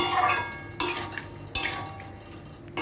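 A spoon stirring and scraping a spiced vegetarian soybean curry in a pan, three distinct scraping strokes over a soft background sizzle, close and clear, with no talk.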